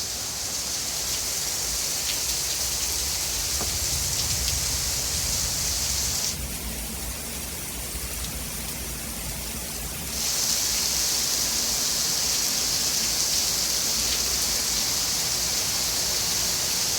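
Heavy night rain from storm Debby pours in a dense, constant roar, with a brief stretch where the hiss softens before returning at full strength.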